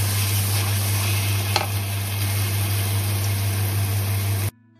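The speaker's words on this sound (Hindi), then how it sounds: "तेल में मैं पहले इलायची, 2 बेलीफ और जिंजर गार्लिक पेस्ट डाल के मैं इसको अच्छे से फ्राई कर रही हूँ।" Cardamom, bay leaves and ginger garlic paste crackle in hot oil for a Bengali-style chicken and potato curry, a dense continuous sizzle close up over a low steady hum, cutting off abruptly at the end.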